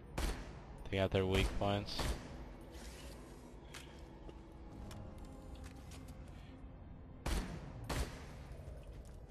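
Sniper rifle shots in the Borderlands 2 video game, a few sharp loud reports spaced seconds apart, with gunfire echoes and game effects, while someone talks over the action.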